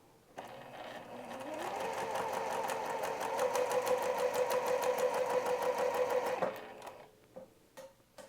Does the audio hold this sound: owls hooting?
no